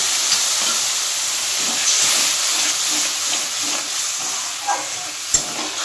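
Rinse water from a bowl poured into a hot pan of vegetarian bitter gourd kofta curry, giving a steady steaming hiss and sizzle with a couple of small clinks near the end.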